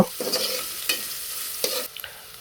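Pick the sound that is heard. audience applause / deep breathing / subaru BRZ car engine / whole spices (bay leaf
whole spices (bay leaf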